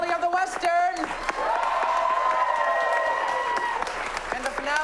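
An improv comedy audience claps to vote for a Western finale, a sustained loud wash of applause with a few whoops. A voice speaks over it at the start and end.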